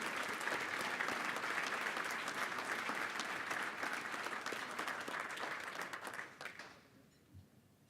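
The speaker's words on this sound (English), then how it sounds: "A round of applause." Audience applause at a police department's annual awards luncheon: a sustained, dense wash of many hands clapping at steady volume, thinning out and fading to a few scattered claps over the last second or so.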